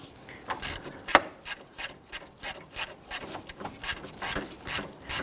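A hand ratchet works loose the bottom stud on the A/C condenser of a 2006-2010 Hummer H3, giving a run of sharp, rapid clicking bursts in an uneven rhythm, close up and with no talk.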